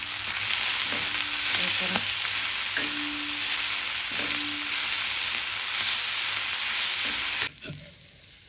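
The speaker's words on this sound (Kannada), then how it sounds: "ಈಗ ನೋಡ್ರಿ ಹುರಿದಿದ್ವಲ್ರಿ ನಾವು ಶೇಂಗಾ ಮತ್ತು ಪುಟಾಣಿ" Peanuts and roasted gram are stirred and roasted in a pan, giving a steady close sizzle with repeated scraping strokes. A brief voice speaks before the sizzle suddenly drops away near the end.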